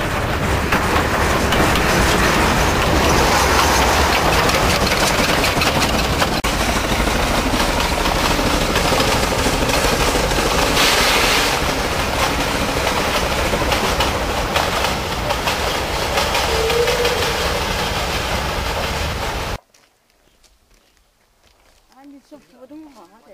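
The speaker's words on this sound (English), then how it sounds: "It's time to take the train back to Shibanxi." Train ride back to Shibanxi, heard as a steady loud rolling rumble of rail carriages with faint clatter that runs for most of the clip before cutting to near silence.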